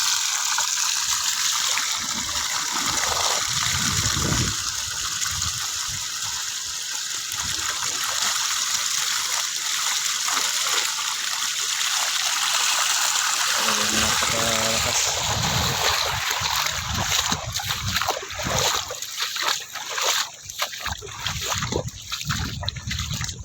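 Creek water flows continuously into an eggplant field during irrigation, a steady close trickling and splashing rush with a person talking intermittently over it.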